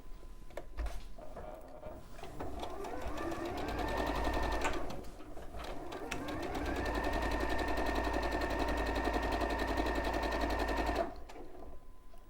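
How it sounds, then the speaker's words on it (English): A sewing machine stitches a curved seam between two cut fabric pieces in quick, even runs, pausing briefly and then continuing in a long steady burst. It is fairly faint and close, with no voices. "So I'm gonna sew the just curve line together."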